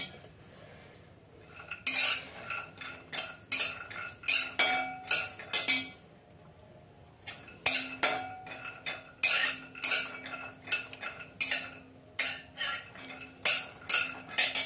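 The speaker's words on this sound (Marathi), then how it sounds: "खसखस आपल्याला पिठामध्ये भाजायचं आहे" Poppy seeds roasting in flour in a pan, stirred with a metal spoon: bursts of scraping, clinking strokes come in quick irregular runs, separated by short quiet pauses, close up with no talking.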